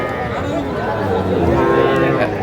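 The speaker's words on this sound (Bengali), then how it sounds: "আচ্ছা গরুগুলো একটু দেখান তো আমাদের" Cattle low and moo continuously at Ambari livestock market among young bulls and heifer calves, the close, loud calls mixed with background crowd chatter.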